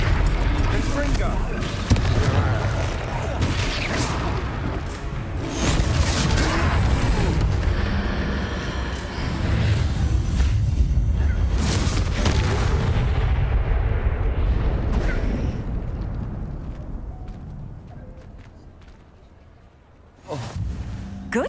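Repeated blasting-spell explosions in the Hogwarts Legacy game during a troll fight, heavy booms and crackling bursts in quick succession, loud and close, tapering to a lull before a final blast.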